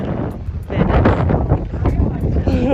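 Strong wind on Skrova in the Lofoten islands buffeting the microphone with low, rumbling gusts, loud and close, while a person talks over it throughout.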